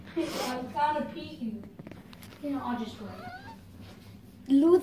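A kitten in Fallout 4 gives a few short, high meows in bursts, with people talking over and between the calls throughout.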